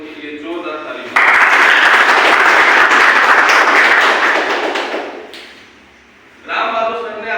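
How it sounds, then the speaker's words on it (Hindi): Loud crowd applause at a seminar for an ashram service committee, bursting in abruptly after a voice and holding strong for about four seconds before dying away, then a voice returns. "एकम आश्रम सेवा समिति के लिए जोरदार ताली।"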